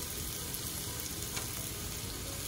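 Butter sizzles loudly in a hot pan around a frying T-bone steak, a dense, continuous crackle heard up close with no talking.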